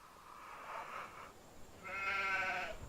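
Sheep in a farming video game give two bleats, a softer wavering one followed by a louder, buzzier one, heard close and clear with nobody speaking over them.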